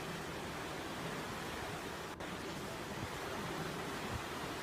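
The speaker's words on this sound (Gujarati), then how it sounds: "નદીમાં ધસમસતો આ પાણીનો પ્રવાહ છે" Floodwater of the Ambakui river near Dhanej village in Talala, Gir Somnath, rushes after heavy rain, a dense continuous roar of broadband water noise at steady level throughout.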